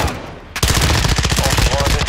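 Rapid automatic gunfire from a video game, a dense continuous burst of loud shots that starts abruptly after a brief quieter moment.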